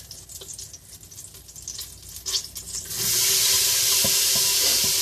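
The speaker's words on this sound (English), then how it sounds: "we're just searing up the veggies to give them a start" Vegetables for jambalaya searing in a hot pan: scattered stirring clicks and a moderate sizzle at first, then a loud, steady, close hiss that fills the second half.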